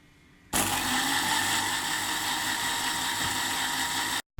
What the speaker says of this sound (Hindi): ये मैदा हमने ब्लेंडर के अंदर डाल दिया है।